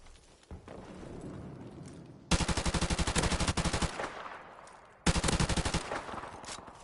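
Rapid sniper and automatic gunfire in a video game, two loud bursts of closely spaced cracks after a quieter stretch of background game noise.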